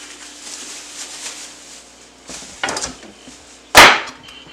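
A knife cuts through the end of a pepper onto a cutting board, with a soft slice and then one sharp, loud chop against the board near the end in a quiet kitchen.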